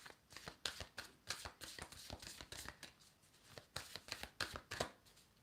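Tarot cards are riffled and shuffled by hand in steady, rapid bursts of crisp papery flutters and slaps, close and fairly quiet, with no talking over them.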